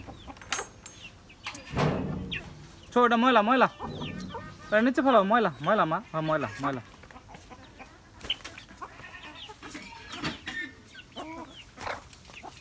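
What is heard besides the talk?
chickens clucking while eating feed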